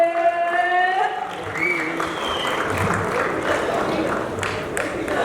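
An audience applauding at a dance performance, a dense sustained clapping that starts under a brief spoken call and continues loud and close.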